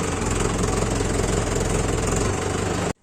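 A John Deere farm tractor's diesel engine idles, a steady loud rumbling throb held close and unbroken for nearly the whole stretch before cutting off abruptly right at the end, with no speech over it.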